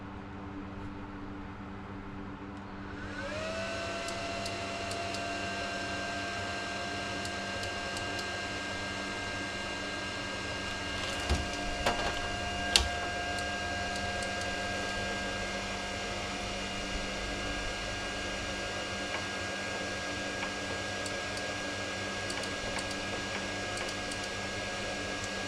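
Arccaptain MIG 135 welder switching on and running, a steady electrical hum with a fan whir and whine that rises a few seconds in and holds evenly, with a brief click partway through.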